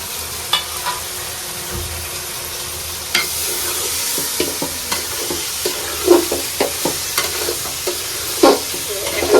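Onions frying in a pot with mutton for biryani, a constant sizzle broken by frequent spoon stirs and clinks, close and fairly loud, with no talk.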